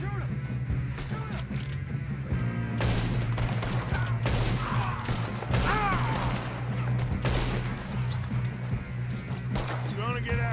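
Rapid gunfire in Red Dead Redemption 2: a dense series of sharp shots and crashes over a steady low hum, mixed with voices talking and shouting throughout.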